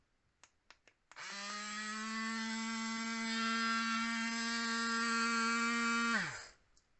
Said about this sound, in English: It's a portable mini juicer.